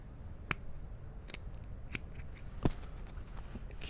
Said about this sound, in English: I am going to give that a little trim away, that corner there.